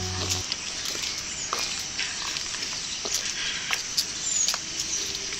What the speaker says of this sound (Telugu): చినుకులు పడుతున్నాయిరా.